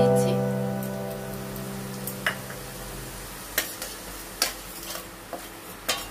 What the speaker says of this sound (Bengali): দিয়ে ভালো করে একটু নাড়াচাড়া করে নিচ্ছি মশলা।